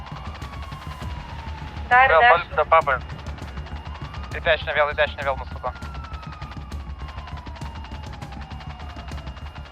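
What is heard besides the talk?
gunfire aimed at the player in a video game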